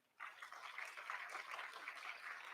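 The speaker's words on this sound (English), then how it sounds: "Another round of applause from him." Applause breaks out for a participant at a school interhouse dance competition, a steady wash of many hands clapping that starts abruptly and keeps going at an even level, fairly faint and with no talking.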